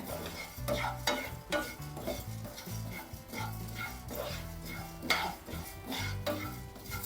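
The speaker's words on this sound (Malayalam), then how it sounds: "നമ്മുടെ മല്ലിയും ജീരകവും കുരുമുളകും നല്ല മൂത്തേ." Coriander seeds, cumin and black pepper dry-roasting in a pan are stirred with a metal spoon, giving repeated scraping and clinking strokes over a light sizzle, close and steady without talk.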